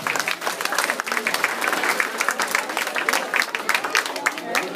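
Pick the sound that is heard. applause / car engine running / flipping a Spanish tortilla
applause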